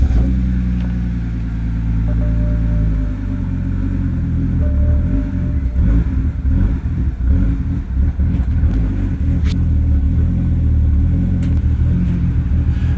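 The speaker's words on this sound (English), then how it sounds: "Alright, let me crank the car." A BMW's engine turns over and catches, then settles into a loud, close, rumbling idle with some uneven revving. No one talks.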